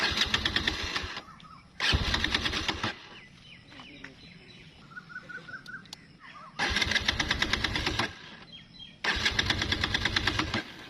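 A motorcycle engine cranks in four loud bursts with the choke up, sputtering each time without catching, with birds chirping faintly in the pauses between attempts.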